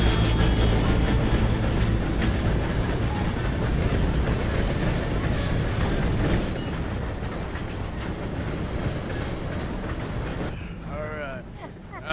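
A steam train in the Red Dead Redemption 2 game rumbles loudly and continuously with clattering wheels, easing slightly in the second half while a voice speaks near the end.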